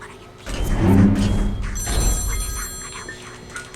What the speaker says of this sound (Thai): รับโทรศัพท์